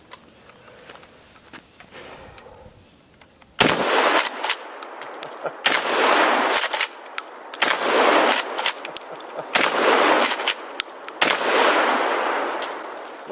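A shotgun firing slugs at a propane tank outdoors, five loud sharp blasts spaced a second or two apart, each with a trailing echo, after a few seconds of quiet handling.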